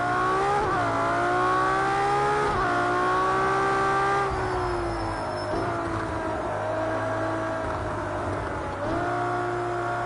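Race car engine held at high revs through a lap of a Porsche, Ferrari and McLaren racing game, its whine dipping and climbing with each gear shift, loud and continuous with a low rumble underneath.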